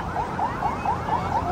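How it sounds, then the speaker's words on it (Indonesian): An ambulance siren sounds near the Masjidil Haram in Mecca, a steady repeating wail rising and falling about every quarter second, moderately loud against a busy outdoor background. "Oh, ada suara ambulan."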